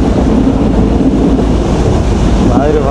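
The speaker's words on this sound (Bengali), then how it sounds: "100 স্পিডে চলতেছে বনলতা এক্সপ্রেস।" Banalata Express train running fast, a loud, dense low rumble and rushing roar heard from on board, steady throughout with a voice faintly present under the noise.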